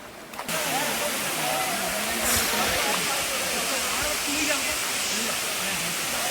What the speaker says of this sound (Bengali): এটা হচ্ছে ঝর্ণার প্রথম স্টেপ, ওই সামনে আছে